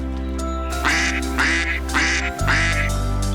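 A cartoon duck gives four nasal quacks in a steady rhythm, loud and close, over a sustained musical backing in an animated children's nature-walk story.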